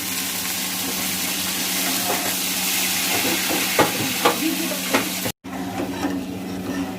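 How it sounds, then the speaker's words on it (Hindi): Ginger garlic paste fries in hot ghee in a pan for kaleji masala, giving a steady loud sizzle with occasional scraping stir strokes and a brief dropout near the end. "हमने अदरक लहसुन का पेस्ट डाल दिया है और इसको अच्छी तरह फ्राई करेंगे"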